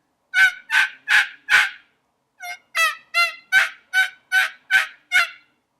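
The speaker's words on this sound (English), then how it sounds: "at first, I recommend to yelp by just doing it like a duck call and holding it like this" Turkey yelps blown on a Turkey Reel mouth-held call played like a duck call: a run of four loud raspy notes, a short pause, then a steady series of eight more, close and alone.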